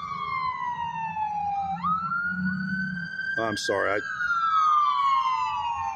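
An ambulance siren sounds nearby in a long, sweeping electronic wail that dips and rises, while a person speaks briefly beneath it and a sharp burst of noise cuts through the middle.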